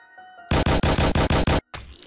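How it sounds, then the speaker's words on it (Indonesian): Loud, close gunfire from World War Z Mobile, a fast string of about eight evenly spaced shots in a steady burst, then a brief gap and one more blast. "kita saling gini guys, saling bertukar peluru"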